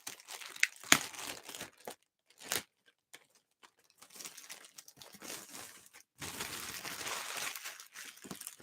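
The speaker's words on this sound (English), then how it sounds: "they got the shipper box, then they got the plastic bag" Plastic bag packaging from an action figure shipment crinkles and tears open in bursts of sharp crackling and rustling close by, with short pauses between handlings and a longer stretch of continuous crinkling near the end.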